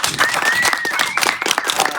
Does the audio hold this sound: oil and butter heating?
no